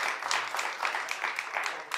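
A studio audience on a daytime talk show claps steadily and fairly evenly for a couple of seconds, a dense spread of many hands heard at a moderate distance.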